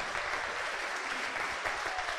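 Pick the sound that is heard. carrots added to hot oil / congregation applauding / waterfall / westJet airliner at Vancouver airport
congregation applauding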